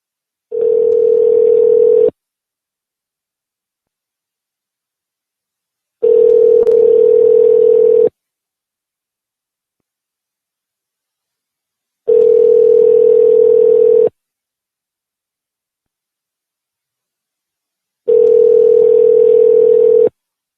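Outgoing call ringback tone: four evenly spaced two-second tones separated by long silences, loud and steady with no voices.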